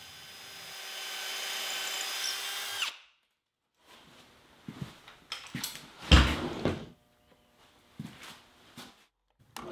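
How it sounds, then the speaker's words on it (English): A power drill whines steadily for a few seconds drilling through a pilot hole into a hardwood brace, then stops; scattered knocks and brief scraping of wood follow. "I can drill through the pilot hole and into the brace."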